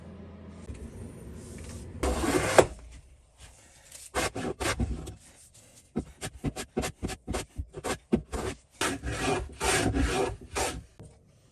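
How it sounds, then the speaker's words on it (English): A hand plane shaves wood in repeated rasping strokes, one long pass followed by a quickening series of short, close strokes with brief gaps between them. "so I'm just going to go and start planing them"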